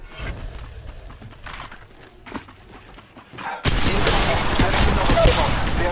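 Gunfire in the mobile game Apex Legends Mobile, scattered shots at first, then a sudden loud burst of sustained firing and impacts that continues to the end.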